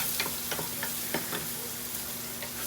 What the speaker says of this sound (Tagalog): Ayan na, igisa ang bawang sibuyas.